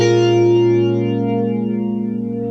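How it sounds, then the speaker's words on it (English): Electric guitar strummed with the pickup selector between neck and middle, run through a Boss BF2 flanger pedal; one sustained, ringing chord swells and shimmers with a sweeping, watery modulation, loud and close with no voices. "For this one, I'm using the Boss BF2 flanger"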